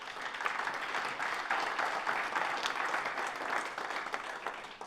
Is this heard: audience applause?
yes